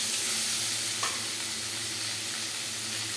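Cauliflower fries in hot oil with a dense, steady sizzle and hiss, close up and unbroken, with a faint low hum underneath and no voices.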